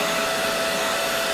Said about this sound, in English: So I'm just going to use a blow dryer for that.